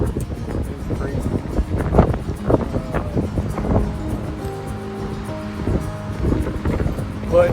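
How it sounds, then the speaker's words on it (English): Strong wind gusting outdoors at night at a campsite, roaring and buffeting the microphone with uneven surges throughout, mixed with flapping and rumbling noises. "This wind is beating me down."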